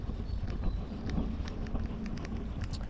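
Wind gusting across a canal during snakehead fishing, a steady low rushing noise with faint scattered ticks and rustles, no talking.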